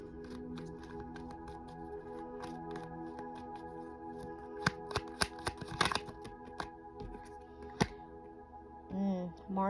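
Oracle cards shuffle in soft, irregular riffles and slaps, close and fairly quiet, with a few sharper snaps near the middle and a faint hum underneath.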